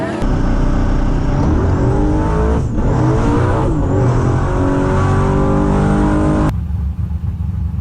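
A turbocharged drag racing truck launches, its loud engine roaring hard and steady at full throttle, close and continuous, with pitch shifts as gears change, then cuts off abruptly.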